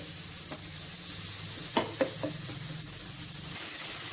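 Chopped tomatoes sizzle steadily in a hot pan while cooking for tomato rice, a continuous soft hiss with a few brief clinks of stirring in the middle.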